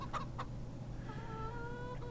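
Chickens in the farming game Market Farm Empire cluck in a few short, sharp bursts early on, then a thin tonal hum carries on quietly beneath.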